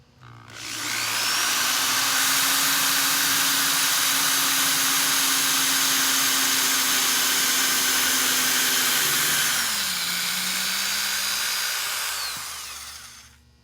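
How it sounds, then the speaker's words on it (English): A power drill whines steadily for several seconds while drilling top to bottom through a Christmas ornament, dipping slightly in pitch near the end as it bites in, then winds down. "I'm going to take this and drill it from the top to the bottom."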